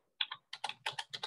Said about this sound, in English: Who is typing? Somebody is typing and there is a background noise.